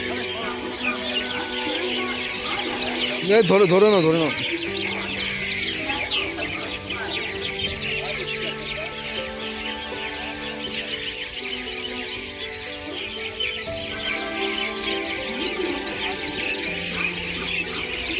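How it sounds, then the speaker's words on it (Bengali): A flock of birds calls loudly in a tree outdoors, a dense, continuous chorus of chirps and coos that fills the whole stretch, with a few brief spoken words near the start. "এতটা পরিমাণে পাখি চেঁচামেচি করছে"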